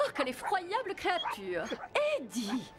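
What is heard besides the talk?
No everyday noise stands out behind the speech.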